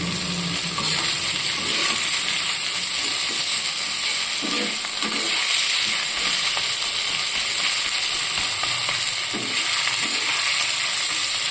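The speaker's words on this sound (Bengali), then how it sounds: "বন্ধুরা আবার রান্না করছি মিষ্টি কুমড়োর ছক্কা" Pumpkin chhokka fries in a pan with a steady, close hiss, broken by scattered scraping and clicking as the pieces are stirred.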